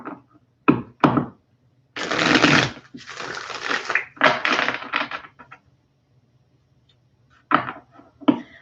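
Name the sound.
tarot cards being shuffled and pulled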